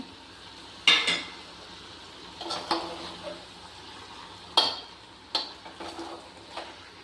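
Tomatoes stirred into a frying mixed vegetable curry, quiet low sizzling under intermittent spoon clinks and scraping knocks against the pan spread over several seconds, close by, with no talking.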